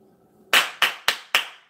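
Four sharp, close hand claps in a steady, evenly spaced rhythm follow a moment of quiet, each one crisp and loud and ringing briefly, mimicking a football coach's signature clap.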